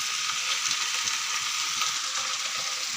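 Green chili and tomato sizzle steadily in a hot pan, a loud continuous frying hiss with small crackles throughout and no voices.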